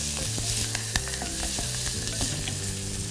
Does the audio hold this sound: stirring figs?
yes